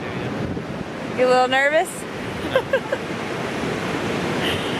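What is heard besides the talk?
ocean waves breaking on the beach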